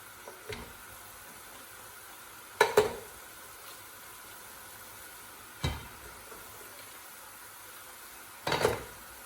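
Lobster pieces fry in melted garlic butter in a pan, giving a faint, steady sizzle broken by three sharp clanks of a utensil against the pan, spaced a few seconds apart.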